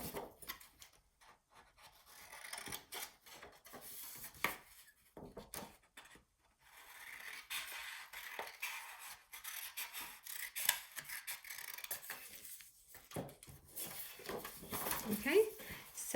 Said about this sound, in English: and then we're just gonna cut this part out.